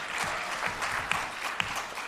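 Audience applause at a panel event, a brief burst of steady clapping from a crowd, moderately loud and alone.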